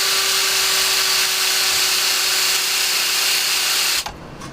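Power drill boring holes for stainless steel slide ski screws, a continuous high-pitched whine running steadily for about four seconds before cutting off abruptly, loud and close with no talking.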